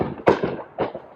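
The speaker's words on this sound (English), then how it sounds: "there's a lot of fireworks going on, which is cool." Fireworks burst outside in a yard near a chicken coop, two sharp booming cracks with short rumbling tails, fairly close and loud, with no talking.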